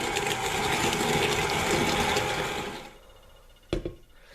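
A stand mixer fitted with a flat beater paddle creams butter, sugar and vanilla in a bowl, a steady close motor whir with rattling that winds down and stops, followed by a couple of knocks.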